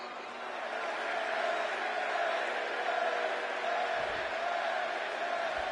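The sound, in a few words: crowd chanting in WWE 2K24 video game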